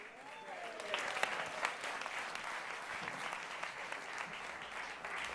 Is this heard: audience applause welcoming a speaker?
yes